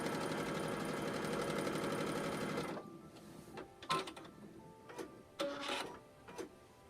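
Sewing machine running steadily to stitch a quarter-inch seam on a tote bag, a fast continuous mechanical whir for a few seconds that then stops, followed by quiet fabric handling and small knocks.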